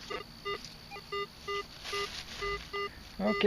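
A Garrett AT Pro metal detector gives a repeating electronic target tone, reading 61 to 63 in the pull-tab range, short evenly spaced beeps about twice a second, steady and clear over faint outdoor background.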